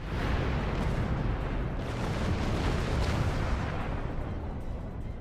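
A ship blowing up in the Star Trek Online space game: a loud, sustained rumbling boom that fills the whole stretch, dense and roaring without a break, fading only slightly toward the end.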